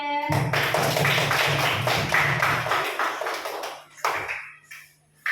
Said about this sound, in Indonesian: Tepuk tangan kelompoknya Mbak Najwa.